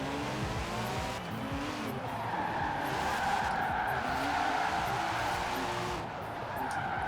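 Car sliding and drifting in Forza Horizon 4, a budget classic supercar drift build on downhill roads, with steady engine drone and long continuous tire skidding and squealing throughout.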